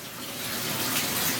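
Water pours steadily into a large DIY plywood aquarium of about 1210 gallons as a loud, continuous close-up gushing rush.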